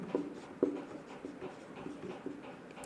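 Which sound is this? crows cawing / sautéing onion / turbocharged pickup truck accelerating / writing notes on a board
writing notes on a board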